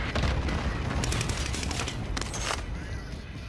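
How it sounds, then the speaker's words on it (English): Gunfire in the shooter game Call of Duty: Modern Warfare: dense, noisy bursts of shots and booms overlap continuously, loud and close, easing slightly toward the end. "Oh, they're shooting me."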